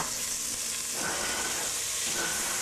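Bacon sizzles and fries in a pan for pasta fagioli, a steady close crackling hiss with light stirring scrapes partway through, no voices.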